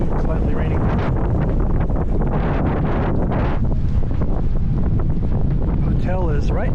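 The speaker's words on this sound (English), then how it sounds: "Windy, raining, slightly raining." Strong wind buffeting the microphone continuously on a rainy October afternoon by the flooded Piazza San Marco in Venice, loud gusty rumble with a voice partly buried underneath.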